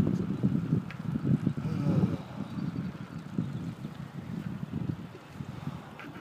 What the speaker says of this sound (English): I'm sorry it's so windy.